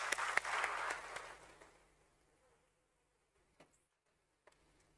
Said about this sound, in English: Let's have a big, big, big round of applause